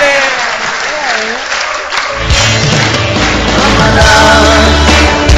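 An audience at a rabbi's lecture breaks into applause that swells and holds loud and close, with a voice talking over the clapping.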